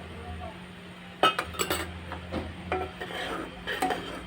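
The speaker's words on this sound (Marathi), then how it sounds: "चांगला असा ढवळून घेऊया." A spoon scrapes and clinks against a pan while stirring a green raw-mango candy mixture, with a few sharp metallic knocks and softer scraping between them, close and moderately quiet.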